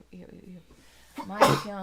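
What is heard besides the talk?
sneeze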